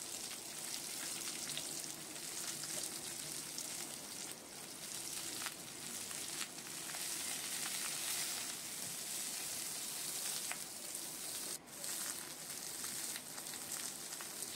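Mixed vegetables, cooked alongside prawns for a five-vegetable dish, fry in a pan with a quiet, even hiss that runs unbroken, with occasional faint stirring and no voices.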